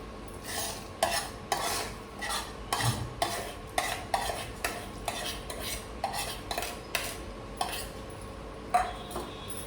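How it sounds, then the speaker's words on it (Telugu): A tempering of urad dal, mustard, cumin, curry leaves, garlic, dried chilli and fenugreek stirred into ridge gourd peel chutney, with a spoon clacking rhythmically against the vessel about a dozen times over a faint background. "ఈ తాలింపు ఇప్పుడు దీంట్లో వేసేద్దాం"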